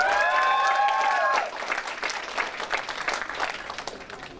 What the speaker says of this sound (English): A big cheer for MQ, sir.